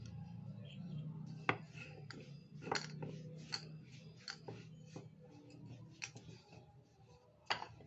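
A wooden rolling pin works dal puri dough one-handed on a board, giving soft irregular taps, knocks and light scrapes over a steady low kitchen hum.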